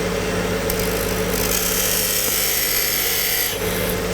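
Rasping, filing scrape of a hand tool shaping an olive wood knife handle, a steady continuous rub that runs for the whole stretch, close and fairly loud with no talking.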